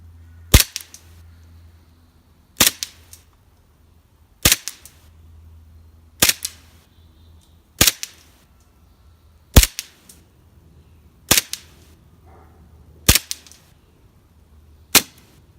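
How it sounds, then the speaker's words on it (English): A Armor Works Hi-Capa airsoft pistol fires nine sharp, snappy shots at a slow, even pace about two seconds apart, each crack loud and close with quiet gaps between. "Alright, we'll be taking 10 steady shots."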